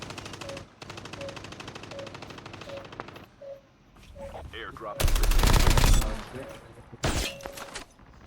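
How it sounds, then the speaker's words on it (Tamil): Gunfire in the mobile shooter Call of Duty Mobile, with a rapid run of repeated shots, then a loud, dense burst and a shorter volley, set against game sounds. "வேற தூரத்துல ஸ்னைப்பர் ஒருத்தர் அடிச்சிட்டு இருக்கான்."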